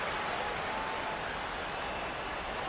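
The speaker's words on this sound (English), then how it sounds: "who's done the ambient crowd noise that you've heard here tonight" Artificial ambient crowd noise piped into a baseball game between the New York Yankees and Washington Nationals: a steady, even wash of distant crowd murmur and cheering with no distinct peaks, fairly faint throughout.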